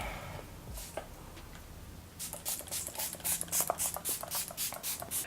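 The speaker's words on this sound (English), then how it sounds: "I'm just going to spray with some Max Fix Plus." A quiet pause, then a rapid series of short pumping sprays of Max Fix Plus setting spray hissing in quick rhythm, close to the microphone.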